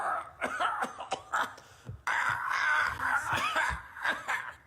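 An audience member at a live show coughs repeatedly, a cluster of sharp coughs followed by a longer, rough, strained stretch, close and fairly loud.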